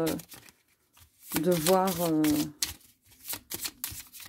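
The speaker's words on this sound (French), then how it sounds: "en direct le mélange des cartes" Tarot cards being shuffled give quick papery riffles and flicks in short bursts, close by, while someone talks over and between them.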